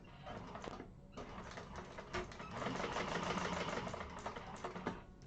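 A sewing machine chain stitches a bag with a 1/8-inch seam. It gives a quiet, steady mechanical whirring and clatter with a short pause near the start.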